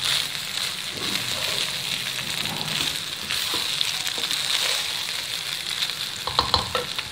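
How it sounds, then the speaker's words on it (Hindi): Rice is stir-fried and tossed with garlic in a hot pan, a steady sizzle under repeated stirring scrapes, with a few sharper clanks near the end and no talking. "राइस इसमें ऐड करके हमने थोड़ा सा इसको मिक्स करना है गार्लिक के साथ"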